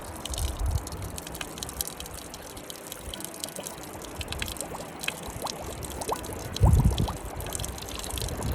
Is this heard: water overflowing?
yes